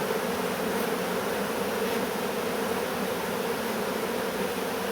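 Honeybees from a strong hive make a dense, loud, continuous buzzing drone close by, steady and unbroken throughout with no voices.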